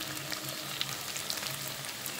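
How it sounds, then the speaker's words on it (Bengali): Paneer cubes fry in hot oil for a Bengali potol paneer dish, giving a steady, close sizzle with small crackling pops throughout and no talking. "আবার পনিরগুলো এরকম লাল লাল করে ঠিক ভেজে নিতে হবে, একটু শক্ত করে ভাজতে হবে"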